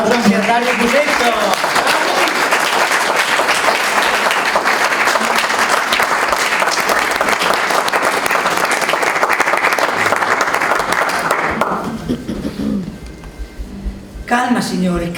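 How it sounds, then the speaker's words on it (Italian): An audience at an environmental group's New Year celebration claps loudly and steadily for about eleven seconds, then the applause drops away abruptly as voices take over, with a brief burst of clapping returning at the end. "E un applauso anche a Dario Busetto."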